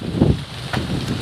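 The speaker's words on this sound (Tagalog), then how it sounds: "lakas na na hangin" Steady strong wind at a fishpond, just before rain, rushes across the microphone with a rumbling buffet, rising in two gusts over about a second.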